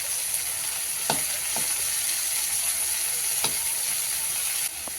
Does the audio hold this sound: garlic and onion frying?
yes